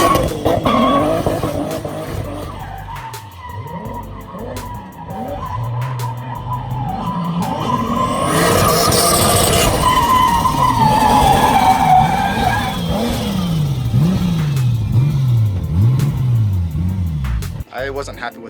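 A car drifts with long, wavering tire squeals and engine revs that rise and fall in repeated surges, loud and near, with people talking over it.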